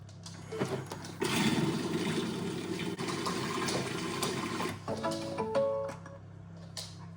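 Thermomix TM7 kitchen machine mixing banana cupcake batter for 10 seconds on speed 4, a moderate churning whir that rises, holds steady and winds down, followed by a few soft clinks.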